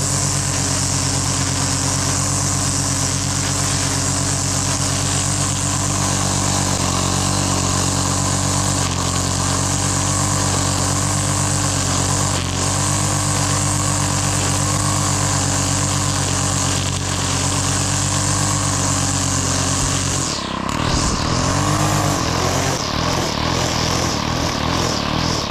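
A gas-powered lawn edger runs steadily at half throttle while edging a butterfly garden, its loud, close, droning engine holding an even pitch for most of the stretch before dipping briefly near the end.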